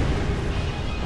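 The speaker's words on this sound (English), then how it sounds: "Ah, damn, cannon got me." A cannon shot explosion in the Drakengard video game, a dense broadband boom that fills the whole short moment at steady loudness, with no talk over it.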